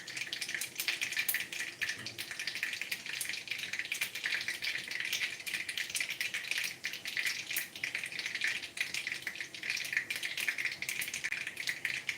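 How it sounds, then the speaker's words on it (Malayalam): Mustard seeds splutter in hot oil while upma is being cooked, giving a steady, dense crackle of tiny pops with a hissy sizzle that continues without a break. "കടുക് പൊട്ടിക്കഴിഞ്ഞു"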